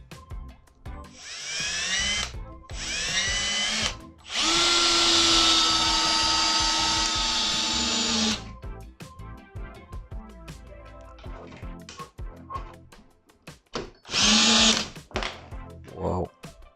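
A Milwaukee M18 compact 1/2-inch drill driver fitted with a nut driver bit whirs in several bursts, short runs and one longer sustained spin, up close with brief pauses and a voice between them.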